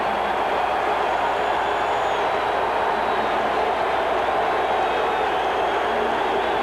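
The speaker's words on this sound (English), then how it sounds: "Listen to this crowd. Standing ovation." A baseball crowd at a 1984 Reds versus Cubs game rises in a standing ovation, a sustained, even roar of thousands of fans that holds steady throughout without breaks.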